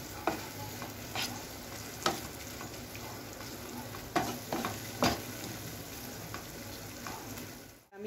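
Red chili sauce and tomato sauce being stirred into noodles, a steady scraping and mixing with a few sharper clinks of the utensil against the pan, close and fairly quiet, with no talking.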